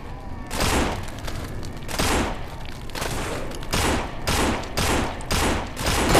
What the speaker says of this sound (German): 5 Schuss für ein Viech